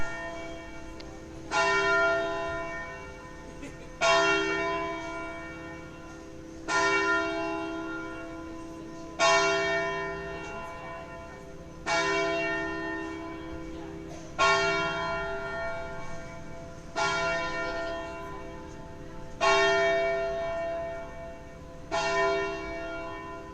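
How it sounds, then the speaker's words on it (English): Church bell tolling in Varenna on Lake Como, eight or nine evenly spaced strikes about every two and a half seconds, each ringing out and fading under a faint outdoor background. "Nice church bell going anyway."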